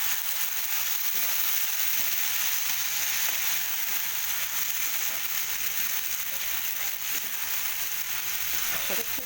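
A spice paste of ground turmeric and other spices goes into a hot pan and is stirred, giving a steady, moderately loud sizzle with faint scraping ticks throughout and no speech.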